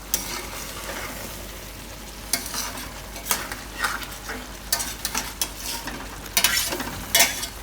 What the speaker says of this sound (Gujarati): તો પનીર નાખીને થોડીક વાર આ રીતે પકાવવાનું ગ્રેવીમાં.